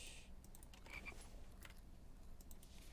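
Frogs croak repeatedly at night outdoors, a steady chorus of low rasping calls with a few brighter chirps over continuous background noise, some calls close by.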